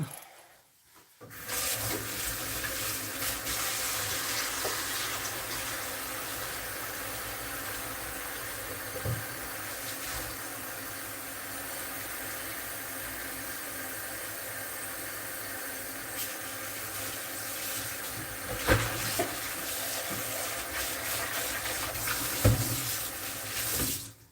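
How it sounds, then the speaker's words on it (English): A kitchen tap runs steadily during hand-washing while preparing a meal, a continuous splashing hiss into the sink with faint rubbing and a few small knocks, close by and without speech. "We'll wash my hands once more"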